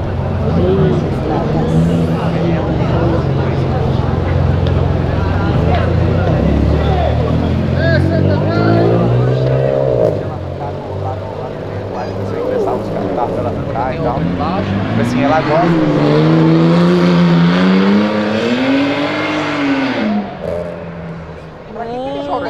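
Cars, including a 2JZ Supra, rev and pull away from a Brazilian gas station, with engine notes sweeping up and down in loud, repeated surges. A crowd chatters and talks over the engines throughout.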